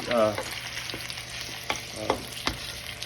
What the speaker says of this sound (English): We're starting this in the frying pan. What that does is it gives a good browning